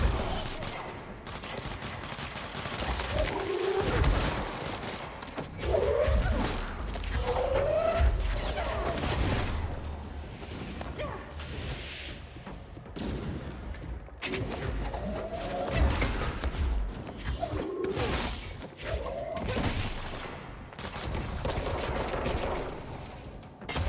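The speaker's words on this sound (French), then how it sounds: "Oh, le sniper." Sniper rifle and gunfire in a video game: a busy battle with repeated bursts of shots, thuds and crashes at varying distances, continuing for over twenty seconds amid game noise.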